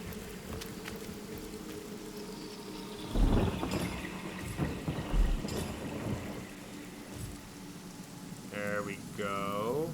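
Rain in Divinity Original Sin falls steadily as a soft, even hiss while it puts out fire, with a few faint thuds and a brief voice near the end.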